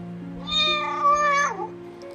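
A single drawn-out cat meow rises and falls over about a second, clear and close, set against a soft sustained tone in a French audiobook.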